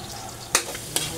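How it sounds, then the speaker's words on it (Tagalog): Minced onions fry in garlic oil in a pan, a soft steady sizzle with two sharp spatula scrapes in quick succession. "Pisa-pisain natin yan para humalo yung garlic oil. Ilagay natin ang minced na onions."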